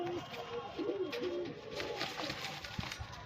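Low, soft pigeon coos repeat close by, a rolling murmuring call, with a person talking over the birds.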